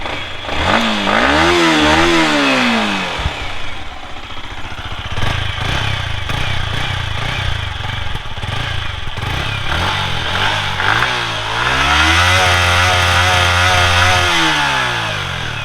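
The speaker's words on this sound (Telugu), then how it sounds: "ఒకసారి ఎగ్జాస్ట్ నోట్ అయితే వినండి" A Yamaha MT-15 V2 motorcycle's exhaust is revved several times, loud and close, with sharp rising and falling engine sweeps near the start and end and a rough idle between.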